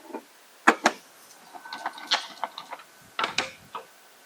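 White ink cartridges of a Ricoh Ri4000 printer shaken by hand, giving a series of sharp plastic rattles and knocks in irregular bursts, close and fairly loud, with quiet gaps between.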